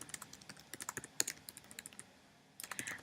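Quick, quiet typing on a computer keyboard, clusters of light clicking keystrokes with a short pause before another burst, close and alone without voices.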